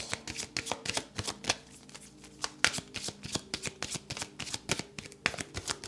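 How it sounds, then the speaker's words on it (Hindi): Tarot cards are shuffled close up in a fast, even rhythm of riffling slaps and ruffles that carries on for the whole stretch, with no talk. "शफल करते हैं कार्ड्स को"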